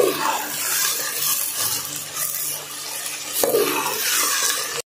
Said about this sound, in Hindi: तब हमने इसमें प्याज ऐड कर दी हैं। तो अब इसको लाइट ब्राउन करते हैं।